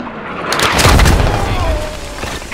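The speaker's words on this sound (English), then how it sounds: "The first explosion got someone." A heavy artillery explosion in the war game Broken Arrow booms loudly up close, with a deep low rumble that fades over a couple of seconds while voices talk through it.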